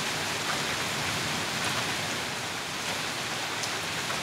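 Steady, dense hiss of rainfall pattering on surfaces, even and unbroken throughout, with no voices.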